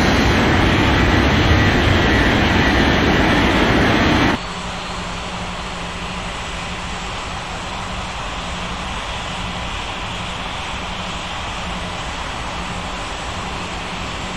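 A Finnair jet roars loudly down runway 27 on its takeoff roll, a dense broadband engine rush that drops sharply in level after about four seconds and continues as a steady, more distant rumble.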